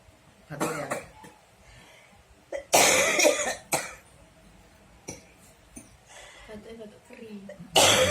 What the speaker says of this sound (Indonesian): Batuk kering.